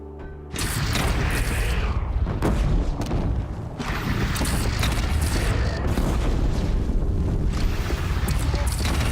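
A bridge is shot down and collapses in Horizon Zero Dawn: a sudden loud boom gives way to a sustained heavy crashing rumble with repeated impacts and debris bursts, staying loud throughout.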